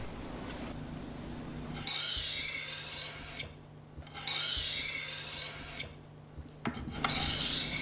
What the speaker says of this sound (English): Resharpen the edge on the fine grit stone.